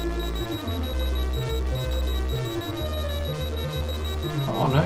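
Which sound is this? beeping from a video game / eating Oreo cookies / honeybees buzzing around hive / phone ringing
beeping from a video game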